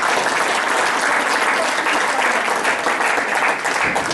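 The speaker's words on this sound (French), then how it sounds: "je l'applaudis" Sustained audience applause fills a hall during a conference on racism in Montreal, a dense, steady wash of many clapping hands, loud and continuous throughout with no speech over it.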